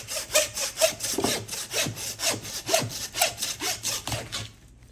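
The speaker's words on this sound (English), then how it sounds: "Just get to the bone, grab your handsaw." A handsaw works through hog bone on a farm, making about a dozen loud, close, evenly paced rasping strokes before it stops near the end.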